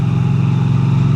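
Norton 961SP Commando with a twin-cylinder pushrod, dry-sump engine, running with a loud, close, steady low rumble that holds even for the brief moment.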